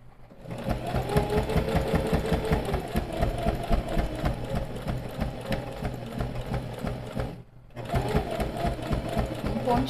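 A sewing machine backstitches a seam in a close, fast, even run of stitches. The rattle stops briefly, then restarts for the reverse pass, with no voices.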